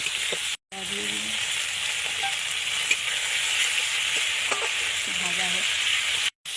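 Onion, garlic and tomato fry in oil as the base for a fish curry, a continuous near sizzle that drops out twice for a moment, with faint voices in the background.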